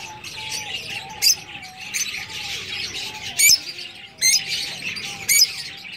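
Green parrots with white faces give harsh squawks at intervals over a steady backdrop of chirping and tweeting birds, a few calls standing out loud and near.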